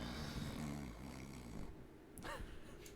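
Loud, rough snoring rumbles steadily through the whole stretch, a deep continuous drone with a brief higher wheeze near the end, close and dominant with no clear talk over it.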